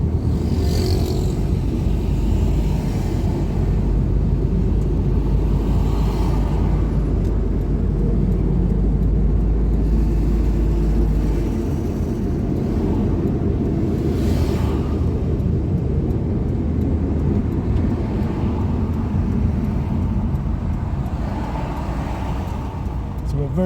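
Steady, loud road rumble from inside a family car traveling with kids between Duhaney Park Plaza and Half Way Tree, engine and tire drone continuous throughout, with occasional swells and a few passing whooshes.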